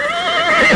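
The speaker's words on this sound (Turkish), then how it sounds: "Haydi tembel atlar." A horse lets out a loud, close whinny lasting under a second, its pitch wavering up and down, with no talking over it.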